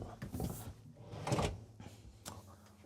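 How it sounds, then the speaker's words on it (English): Deep dresser drawers in a 2024 Renegade Classic 38CSB motorhome bedroom sliding open and shut, a few soft rumbling slides and knocks, faint and close. "Over here, we have 3 more deep dresser drawers."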